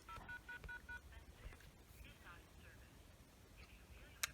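A Uniden analog cordless phone from the early 2000s dials a quick run of about five DTMF tones, close and clear, followed by faint room noise with soft background voice.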